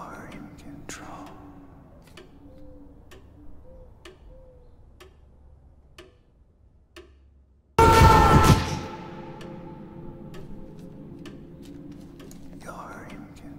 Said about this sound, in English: I think our clock could be a little bit louder